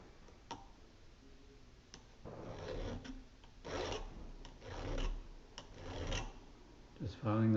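A hand file rasps across the chain of a Remington electric pole saw being sharpened, giving several short, scraping strokes in an uneven rhythm, close and fairly quiet, with ticking metal contacts between strokes.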